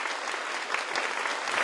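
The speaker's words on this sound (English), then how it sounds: "So please, applause for all the members." Audience applause at a Vegan Earth Day celebration, a dense, steady clapping from a crowd, moderately loud and continuous for the whole short stretch.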